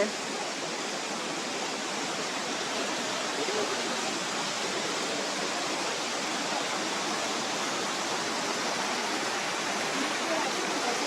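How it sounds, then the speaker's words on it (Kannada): Elephant Falls in Shillong, Meghalaya, water tumbling stepwise down the third tier of the falls, a steady, dense, close roar of falling water that stays even throughout with no voices. "ಸ್ಟೆಪ್ ವೈಸ್ ಎಷ್ಟು ಚೆನ್ನಾಗಿ ನೀರು ಬೀಳ್ತಾ ಇದೆ ನೋಡಿ."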